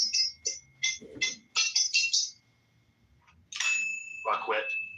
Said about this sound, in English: Let me hit my bell one more time.